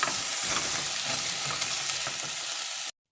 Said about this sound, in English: We're going to cook these just a little bit until the onion and stuff starts to brown a little.